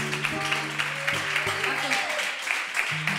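Audience applause at an acoustic concert of the Rey Chico series, a steady wash of clapping throughout, mixed with sustained musical or vocal tones and occasional voices.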